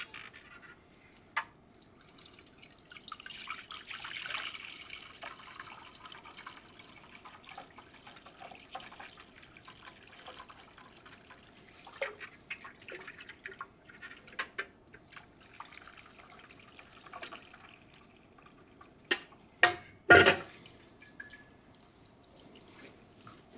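Lobster broth passes through a fine-mesh chinois with soft, steady trickling and dripping over 23 seconds, small splashes and clinks scattered throughout, and a louder sharp clatter near the end.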